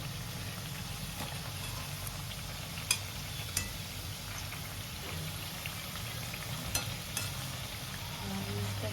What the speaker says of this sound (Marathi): ह्याच्यावर आपण ते तळून घेणार आहोत